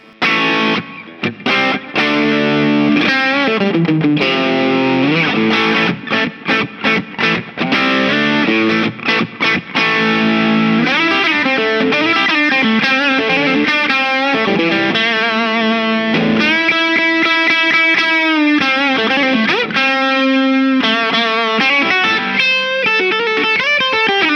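A heavily distorted electric guitar, gain control at maximum, plays sustained, saturated chords and riffs, loud and continuous with a thick, buzzing high-gain tone throughout.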